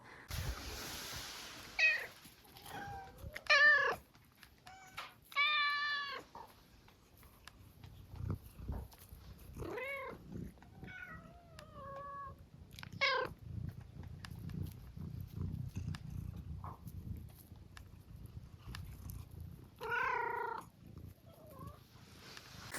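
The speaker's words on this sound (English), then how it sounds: "And here are some of our kitties, our barn cats." Barn cats on a farm homestead meow in a string of separate calls, some near and clear, others softer, spread across quiet stretches with faint low rustling and possible purring between them.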